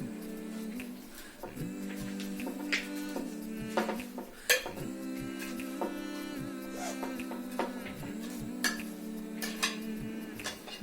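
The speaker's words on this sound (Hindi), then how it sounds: "एक बड़े बाउल में अपनी सारी वेजिटेबल जो हमने कट की थी वो हमें मिक्स कर देनी है।" Cut vegetables for a Caesar salad are tossed in a big bowl, with clinks and scrapes of utensils against the bowl over a steady background hum and a sharper knock midway.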